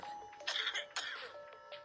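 A short throat-clearing cough, two quick bursts close to the microphone, from a player during a Plague Inc game session with no other sound around it.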